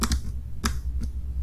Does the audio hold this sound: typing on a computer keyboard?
yes